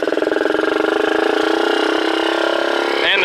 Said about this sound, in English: Just in case anybody's wondering why it's idling so high.